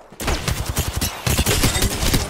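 Dense, rapid automatic gunfire in a battle royale video game, loud close bursts nearly continuous for a couple of seconds after a brief silent start.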